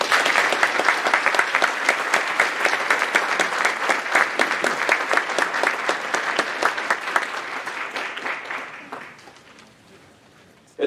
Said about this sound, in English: if parents would join me in a quick round of applause to congratulate